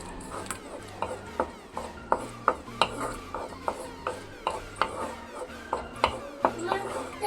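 Mango pulp with jaggery is stirred in a pan, each pass a spoon knocking and scraping against the metal in a steady rhythm of roughly two strokes a second. The knocks are close and fairly loud, with no talk.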